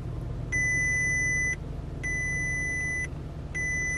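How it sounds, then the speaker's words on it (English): Warning beeps from an OBD11 car diagnostic tool repeat in evenly spaced triple pulses over a steady low engine-like rumble, with no voices. "So don't worry when it starts beeping like this"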